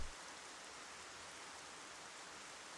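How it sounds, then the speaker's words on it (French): Rain falling in the Xenoblade Chronicles video game, a steady even hiss of rainfall with no breaks, faint and continuous with no voices. "Et il pleut."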